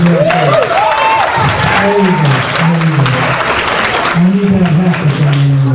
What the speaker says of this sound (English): Big round of applause for Israel.